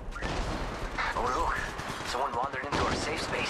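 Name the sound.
gunfire in video game Apex Legends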